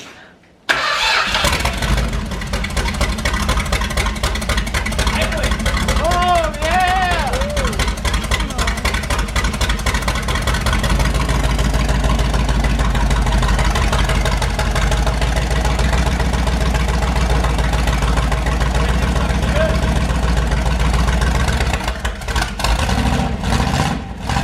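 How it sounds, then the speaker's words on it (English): A 440 big-block V8 cranks and fires on a homemade engine run stand, then settles into a loud, steady rumbling idle close by, with a few brief rev changes before it cuts off near the end. "I did have it running on my engine run stand that I built"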